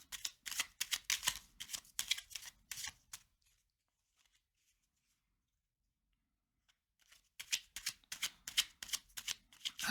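A Healing Oracle card deck is riffled and shuffled in two quick bursts of crisp, fluttering card noise, with a silent gap of a few seconds between them.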